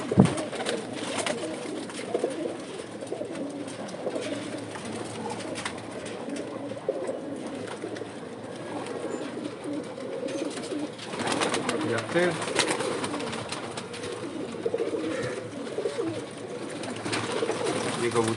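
Pigeons coo in low, soft, repeated calls inside a breeder's loft, faint and partly buried under continuous close male speech and shuffling handling noise.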